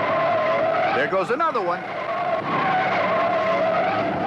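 Tires of 1971 NASCAR race cars skid during a crash spin in turn two at Ontario, a wavering screech of about a second rising out of steady engine roar, with a commentator talking over the action.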